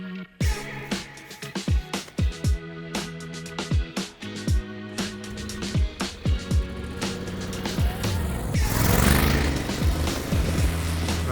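Honda X-ADV 750 scooter engine running steadily as it is ridden, with a humming drone, repeated sharp clicks and rising wind rush toward the end.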